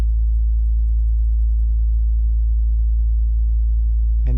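A loud, steady low tone from the Massive synthesizer, scrolling through sine waves with position modulation, hums with layered harmonics, shifting subtly as it runs on, ending with a short click.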